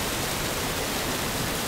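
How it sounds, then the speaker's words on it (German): A loud waterfall in the virtual reality game Swords of Gargantua roars as a steady, dense rush of water, close and unbroken throughout with no other sounds. "Und der Wasserfall ist wieder so laut."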